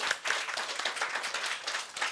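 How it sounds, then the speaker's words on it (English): An audience claps for a couple of seconds, a crisp burst of individual hand claps fairly close and moderately loud, with no talking over it. "I want you to clap"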